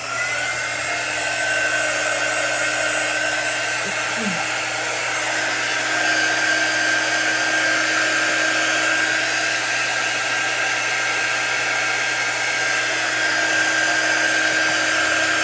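A hair dryer blows steadily over fresh chalk art, a continuous loud whirring hiss with a constant motor whine that holds unchanged throughout, with no voices.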